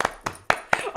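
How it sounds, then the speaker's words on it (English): Applause during a talk show conversation: a few sharp, separate claps spaced at roughly even intervals, close and fairly loud, with no crowd roar. "That deserves a round of applause"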